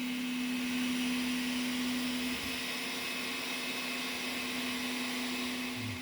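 A 3D printer lays down the first layer of parts for a low-budget camera slider, giving a steady, continuous motor hum with a sustained low tone, heard alone at moderate level.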